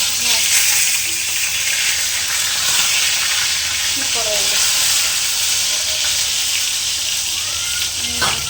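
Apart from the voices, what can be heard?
fish frying in a pan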